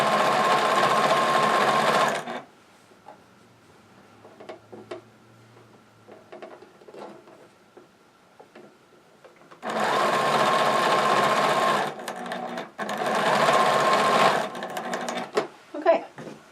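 A sewing machine stitches a stocking, with three loud close bursts of whirring broken by a long quiet stretch of faint handling sounds.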